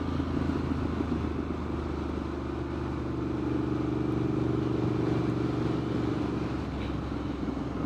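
A Triumph Street Scrambler motorcycle engine runs steadily while riding, a close, continuous low rumble with a constant drone and no speech.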